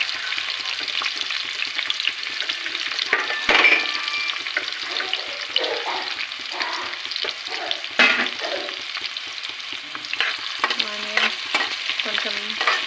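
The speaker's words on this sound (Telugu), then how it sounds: "ఒక సెకండ్ 2 సెకండ్స్ అట్లా హై ఫ్లేమ్లో ఆనియన్స్ ఫ్రై చేసుకుంటే" Sliced onions and green chillies frying on high flame for a cauliflower curry, a continuous close sizzle with stirring scrapes and clatter against the pan, no voices.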